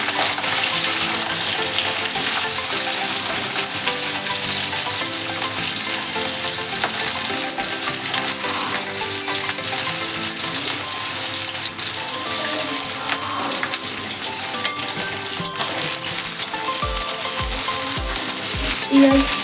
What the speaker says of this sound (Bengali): এবার তেলে লঙ্কাগুলো দিয়ে দেবো, আর পেঁয়াজগুলো দিয়ে দেবো